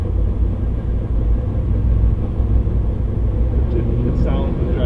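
Engine of a 1969 Camaro, set up with drag-style gearing, rumbles steadily and loud throughout as it pulls hard out of first gear, a continuous low drone with no voices.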